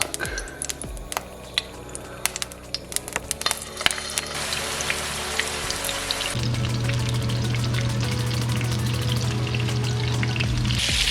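Berlin meatballs (Bouletten) fry in plenty of canola oil, a close, steady crackling sizzle with scattered pops that swells into a louder, denser hiss partway through, no talking.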